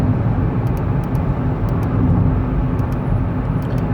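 A Seat Ibiza Cupra with a 1.4 engine is cruising, heard from inside as a steady low engine and road drone. There are faint ticks over it and no talk.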